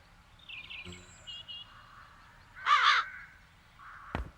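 Crows caw in the fantasy adventure game The Dark Eye: Chains of Satinav, one loud harsh burst of calls standing out over quiet ambient game sound, with fainter bird noises before it and a sharp knock near the end.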